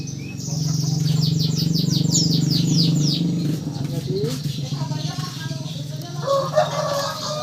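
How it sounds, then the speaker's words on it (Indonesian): Canaries recently through their moult chirp and trill in quick rising and falling phrases, loud and close for the first few seconds, then thinner calls continue over a low steady hum. "Lalu untuk kenari tadi yang sudah gacor, jadi posisinya begini."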